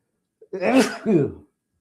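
A single sharp sneeze up close, a quick intake followed by a burst, alone in an otherwise quiet room.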